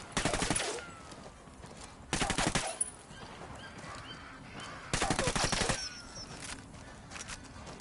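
Submachine gun fire in the tactical shooter game Wildlands comes in three rapid bursts, each lasting about a second, separated by quieter stretches with faint background ambience.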